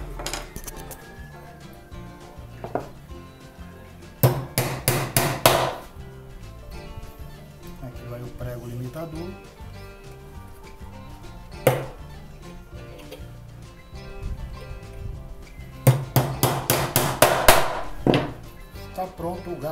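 Nails are hammered into wood while building a wooden orchid planter, with two bursts of rapid, sharp hammer blows and a few isolated knocks, close and loud against a quiet room.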